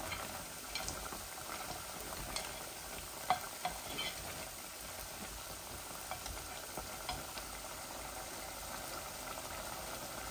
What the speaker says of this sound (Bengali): আর আমি এখানে মিটগুলা ভালো করে ভুনে ফেলি